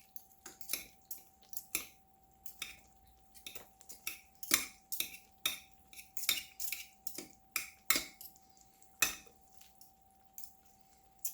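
Cooked chicken pulled apart with utensils in a crock pot of juices: a quiet series of irregular metallic clinks, scrapes and soft wet squishes, alone with no talking.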